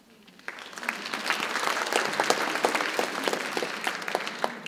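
Applause fills a concert hall after a vocal performance, beginning abruptly and building into dense, sustained clapping from a large audience with individual sharp claps standing out.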